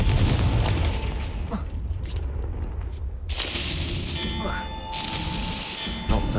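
A Confringo fire spell from the video game Hogwarts Legacy goes off with a loud, deep booming blast. Crackling and clanging follow, with several sharp bursts over a continuous rumble of game effects.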